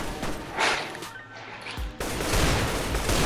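In the Minecraft MineStrike minigame, gunfire sounds as a quick burst of sharp shots, then a brief lull and a sudden loud crash of sustained noisy firing.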